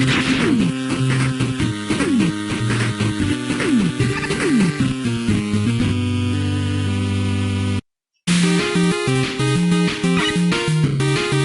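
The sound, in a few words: video game stage music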